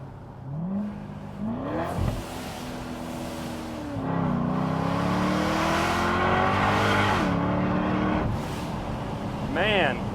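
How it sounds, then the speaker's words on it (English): A supercharged 2011 Chevrolet Corvette Grand Sport running E85 in sport mode revs high and climbs through several gears with loud supercharger whine, punctuated by sharp hissing blow-off valve bursts between shifts. "the sounds that supercharger makes and the blow-off valve is just something else"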